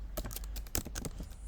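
Quick run of keystrokes on a computer keyboard, several distinct clicks spaced irregularly over a second and a half, close and fairly quiet, with no talking.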